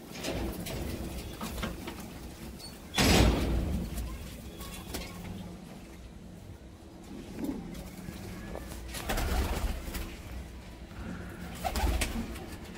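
About twenty golden pigeons coo softly and repeatedly amid a low rustling background, with a couple of louder bursts of wing flutter or handling noise.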